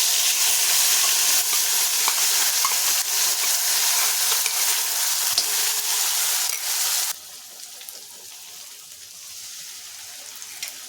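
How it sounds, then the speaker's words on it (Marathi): Ground masala paste sautéing in hot oil with asafoetida in a kadhai for Pandharpur-style bajar amti, a loud dense sizzle that drops abruptly to a quieter simmering crackle partway through. "आता मस्त परतून घ्यायचं"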